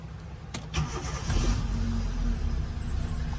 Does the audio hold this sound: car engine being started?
yes